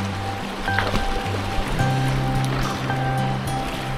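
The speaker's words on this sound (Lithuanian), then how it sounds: "Upė keičias, atsiranda va tokių srovių visokių akmenų jau." A river rushing over stones and through small currents, heard from a boat as a continuous loud watery wash, with low tonal hum and occasional knocks mixed in.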